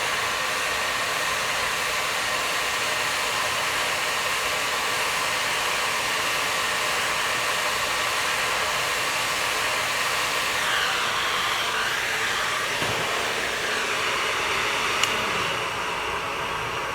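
A heat tool blows hot air onto a leather repair, a loud continuous whooshing hiss held close and steady throughout, with a small click near the end.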